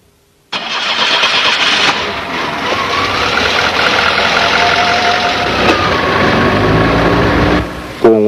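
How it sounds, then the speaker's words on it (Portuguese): A Volkswagen gasoline car engine with a 2E7 carburetor cranks briefly, catches and settles into a steady, close, fairly loud idle with a mid-pitched hum, then a short bump near the end. "Agora, é só dar a partida no motor e aguardar que ele atinja a temperatura normal de"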